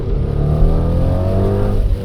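A Range Rover Velar SV Autobiography with a V8 and switchable sport exhaust revs hard, a loud, close, deep engine roar rising in pitch through a sustained pull.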